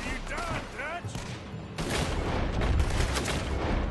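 Gunfire in the Western game Red Dead Redemption 2 rumbles under someone talking, a dense burst of shots and booms building in the second half and overlapping his voice.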